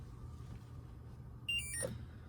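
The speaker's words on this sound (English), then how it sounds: "Hear that beep?" A short electronic beep sounds from a Rheem RTGH tankless water heater control, a brief high tone followed by a couple of quick chirps over a low steady hum.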